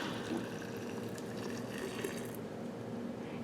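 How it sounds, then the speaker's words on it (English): Four cups of water just below a boil poured over mimosa blooms in a glass jar, a steady close splashing pour lasting a few seconds before easing off. "I'm going to pour it over top of my"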